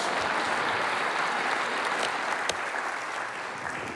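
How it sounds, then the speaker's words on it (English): Dense, steady applause from a live studio audience on a morning talk show, continuous and fairly loud throughout. "How about a big round of applause for the top 10 electrical fails"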